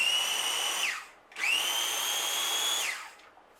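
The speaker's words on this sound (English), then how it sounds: "You're gonna put into the food processor." A food processor whirs through a potato and carrot mixture in two steady, high-pitched runs, each winding down as the motor stops, with a short pause between them.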